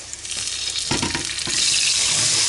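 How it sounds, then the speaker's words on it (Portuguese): Garlic and seasoning sauté in oil left over from seasoning, a bright crackling hiss with a few louder bursts of spitting that grows fuller and steadier toward the end. "Vamos deixar refogar um pouco."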